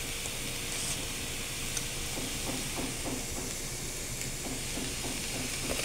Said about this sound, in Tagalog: Gisa na natin yung ricado.